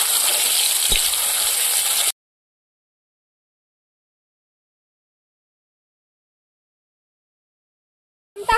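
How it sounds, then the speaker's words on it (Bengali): Crushed garlic and onion fry in a pan over a clay stove, giving a steady, loud sizzling hiss for about two seconds before the sound cuts off into silence, with a brief faint noise at the very end. "থেতো করা রসুন, পেঁয়াজ রসুনটা একটু লালচে করে ভেজে নেব।"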